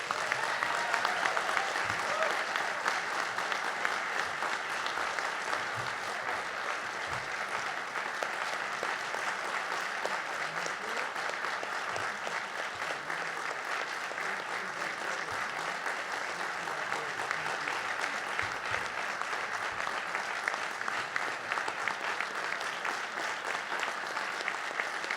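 Sustained audience applause at the Peace Corps JFK Service Awards ceremony welcomes an award recipient, a steady, even wash of many hands clapping from a sizable crowd for the full duration.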